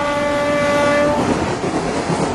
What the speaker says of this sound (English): The Grand Trunk Express nears its destination.